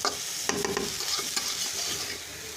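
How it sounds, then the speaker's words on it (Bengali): Pieces of papaya go into a pan of sautéed spice masala, giving a soft steady sizzle with a few sharp scrapes and clinks of a spoon against the pan. No one speaks. "মশলা কষানো শেষ, পেঁপেটা দিয়ে দিব।"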